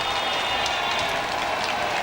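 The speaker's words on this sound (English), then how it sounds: "A huge crowd and a huge cheer." A huge crowd cheering and applauding at a British general election result outside the Labour Party's headquarters, a dense, continuous roar of voices and clapping throughout.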